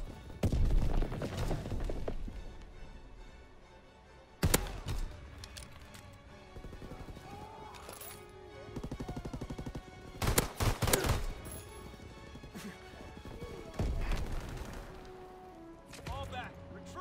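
Scattered bursts of gunfire in the World War II video game Call of Duty: WWII, a few sharp loud hits spread over a long stretch, with voices talking and background battle noise between them.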